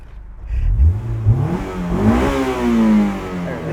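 Honda S2000 roadster engine, a 2001 car, revving up through its rising pitch into VTEC, climbing steadily and loudly over a few seconds with no talk.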